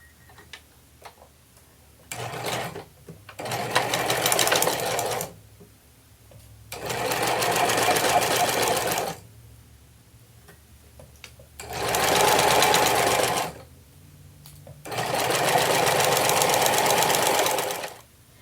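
A sewing machine stitching a quilted tote shut, running in four bursts of rapid mechanical ticking separated by brief pauses, close and steady with light handling sounds between runs.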